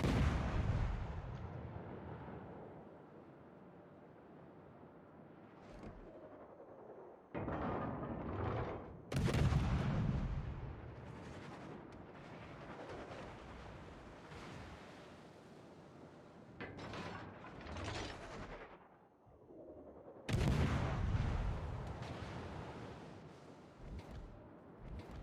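Warship guns fire in World of Warships in several heavy, booming salvos several seconds apart, each a deep rumbling blast that fades slowly, loud and close, with no talking.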